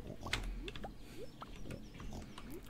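Pigs oink on a farm in a video game, giving several short, quiet, rising grunts spaced irregularly, with light clicking like keyboard taps in the background.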